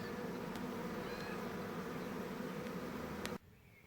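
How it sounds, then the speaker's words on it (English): A swarm of bees clustered together, with a few flying in the air, makes a thick, steady buzzing close by for several seconds. It cuts off abruptly near the end, leaving quiet. "here you can see the bees are all in underneath. A few flying in the air"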